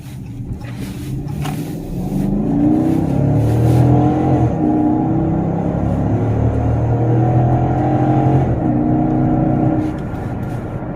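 A 2018 Dodge Charger Pursuit AWD V8 engine rumbles and revs steadily nearby while driving and braking, holding a deep growl before easing off slightly toward the end. No talking.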